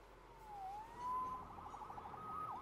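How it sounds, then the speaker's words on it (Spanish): A police siren wails in the Spider-Man video game, its rising and falling tone sounding faint and somewhat distant over a low background. "Salvado por la sirena."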